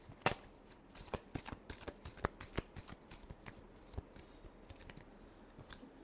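Tarot cards being shuffled by hand, a quiet, close run of crisp riffling and snapping card flicks continuing steadily with no talking.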